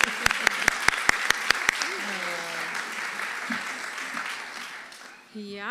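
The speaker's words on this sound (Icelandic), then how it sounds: "Og gefum henni líka gott klapp." A crowd claps at an opening gathering in Iceland: a run of sharp, evenly spaced claps, then a sustained wash of applause that tapers off as a voice begins speaking near the end.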